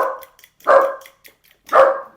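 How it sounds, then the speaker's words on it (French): A dog barks three times in separate loud bursts, fairly close, with short quiet gaps between them. "c'est mon chien qu'on entend."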